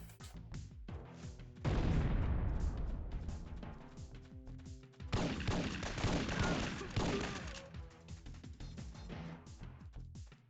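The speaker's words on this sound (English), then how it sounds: "So they instead of shooting at me, they're going to be shooting at each other." Guards trading gunfire with one another in Syphon Filter, heard as two dense bursts of rapid, close shots separated by a brief lull, with scattered lighter shots and thuds between them.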